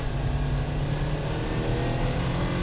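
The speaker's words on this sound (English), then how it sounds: "Solberg driving through the first few corners with moderate tail slides" Solberg's rally car driving through the first few corners with moderate tail slides, its engine a loud, continuous roar close by with no break.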